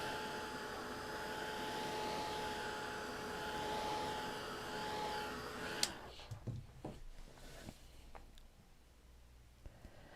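A hand-held dryer blows steadily over iced Christmas cookie leaves, a loud, continuous whir that stops abruptly partway through, leaving quieter handling clicks and taps.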